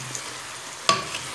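Vegetables for pumpkin soup sautéing in a pan give a steady, faint sizzle, broken near the end by one sharp clatter, as if from stirring, and no one speaks.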